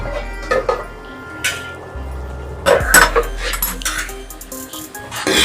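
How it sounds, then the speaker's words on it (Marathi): Metal lid lifted off a cooking pot of palak gravy: a couple of light clinks, then a louder metallic clatter and rattle as the lid comes away, with faint kitchen hiss behind. "झाकण आता उघडून बघूया"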